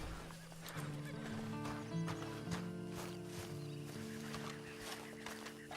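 A horse in the video game Red Dead Redemption 2 clip-clops along with an occasional whinny, faint and set against sustained in-game music.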